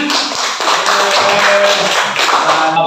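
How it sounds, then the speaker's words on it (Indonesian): Pupils in a classroom clap their hands together, a dense, close burst of applause with many quick overlapping claps lasting about three seconds. "Tepuk tangan."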